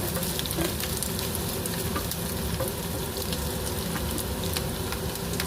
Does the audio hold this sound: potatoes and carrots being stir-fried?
yes